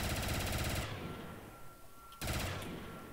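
Automatic weapon fire in a Black Ops 3 custom zombies map, a dense rattling burst that stops for over a second, then resumes, loud and continuous without talk.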